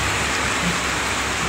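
Rain falls steadily at the scene of a mattress factory fire, a dense, even hiss that holds at the same level throughout with no voices over it.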